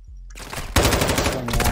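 Rapid automatic gunfire in a Call of Duty esports semifinal match, Toronto Ultra versus New York Subliners, a dense loud burst of shots starting after a brief quieter moment and continuing to the end.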